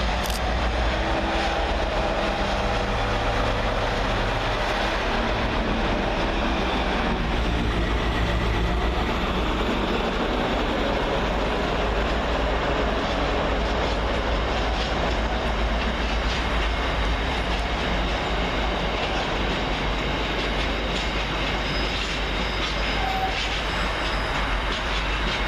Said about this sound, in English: Here's a big old freight train now in the form of 60055, working 6 Zulu 16 for DC Railfreight